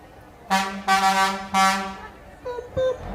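A loud air horn on a restored 1963 Peterbilt tractor blasts three times in quick succession at a Fourth of July parade, followed by two shorter, fainter honks amid background noise.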